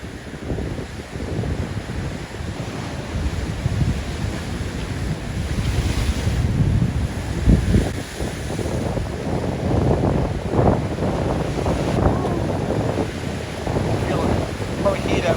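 Strong onshore wind, around 15 knots, roars steadily across a rocky shoreline, buffeting the microphone with continuous broadband rumble and gusts while surf washes beneath.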